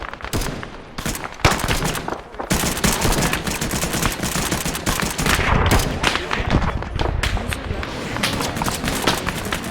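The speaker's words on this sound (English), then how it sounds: "Was that the fucking rocket which flew over us?" Dense, loud gunfire and machine-gun bursts in the Arma 3 military video game, continuous for the whole stretch with heavy thuds, a rushing rocket sound buried in the chaos, and voices faintly mixed in.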